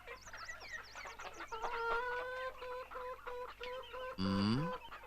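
Several hens cluck and squawk close by in a lively, uneven chorus, with a brief louder squawk near the end.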